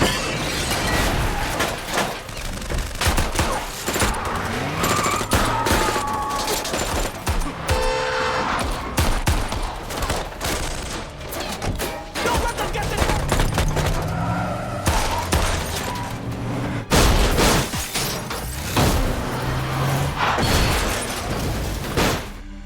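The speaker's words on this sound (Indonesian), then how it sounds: "orang-orang Tin yang bertopeng menunggu saat paling kacau untuk merebut barang di tengah baku tembak" Gunfire rattles through a chaotic shootout in an action film, with rapid bursts, sharp cracks and crashing impacts piled over a dense, loud score for the whole stretch.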